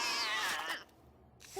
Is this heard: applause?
no